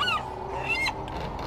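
A seagull in a PS4 horror adventure game lets out short, harsh, honking cries in a quick series, near and clear over a steady low ambient drone.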